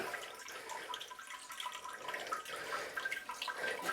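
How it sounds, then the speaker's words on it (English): Water sprays steadily from the front wash nozzle of an Eco-NOVA bidet seat, a soft continuous hiss and patter heard close up and fairly quiet, with no one speaking. "that front wash is technically a different position and everything, so as it comes out"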